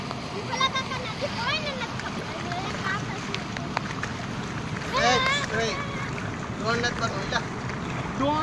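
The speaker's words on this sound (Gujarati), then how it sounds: "જો પાણી જાય છે માથે છે વડા પુલિયા માથે છે" Floodwater from an overflowing dam surges across a village bridge with a steady, rushing wash and occasional splashes. Bird chirps and voices sound faintly in the background.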